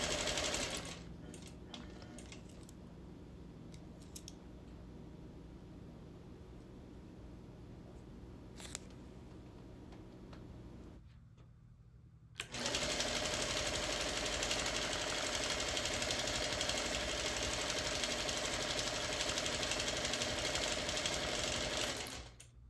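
A sewing machine quilting a panel quilt hums steadily at moderate speed with faint clicks, pauses briefly, then resumes with a louder, denser stitching buzz that runs on evenly, no voices.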